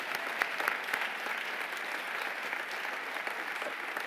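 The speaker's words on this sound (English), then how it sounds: "let's give Jennifer applause" An audience at an MIT MLK luncheon breaks into steady, dense applause, many hands clapping together at a moderate distance for the whole span.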